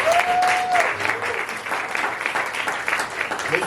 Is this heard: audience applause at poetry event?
yes